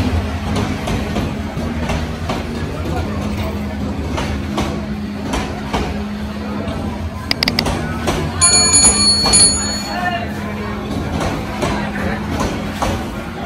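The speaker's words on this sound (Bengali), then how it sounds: "এই মুহূর্তে যে ট্রেনটি স্টেশনে থামছে এটাই হলো সিলেটগামী জয়ন্তিকা এক্সপ্রেস" A Jayantika Express train slows to a stop at Dhaka Airport railway station, giving a steady low rumble and rolling noise with a brief high squeal of brakes partway through.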